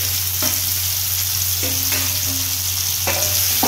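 Chopped spring onion greens drop into a pan of fried chickpeas and sizzle loudly and steadily, with a few soft scraping strokes over the constant frying hiss.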